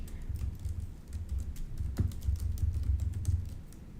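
Someone types on a computer keyboard to enter a new contact into a web form, a soft, steady run of close keystrokes with no talking.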